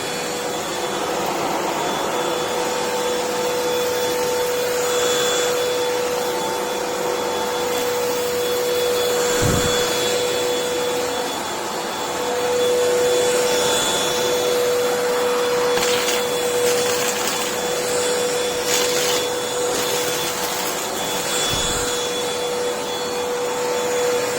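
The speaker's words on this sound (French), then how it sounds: "J'allume l'aspirateur." An Amazon Basics 2-in-1 cordless stick vacuum with a 150W DC motor runs steadily indoors, a constant high whine with airy hiss and a couple of brief thumps as it moves across the floor.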